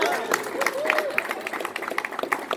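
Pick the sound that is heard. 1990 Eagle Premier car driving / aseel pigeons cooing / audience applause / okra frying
audience applause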